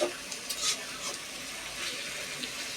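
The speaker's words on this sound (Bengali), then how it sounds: "কিছুক্ষণ পরপর না নাড়লে তলি লেগে যাবে, তাই নাড়তে হবে।" Bitter gourd frying in a pan while being stirred, a soft sizzle with faint scraping and a few light clinks, fairly quiet and without talk.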